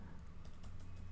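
Quiet key taps as a terminal command is typed on a Mac keyboard, a short, soft cluster of clicks over a low hum.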